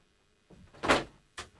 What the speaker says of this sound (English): Let's shut that door with all the fan makers in there.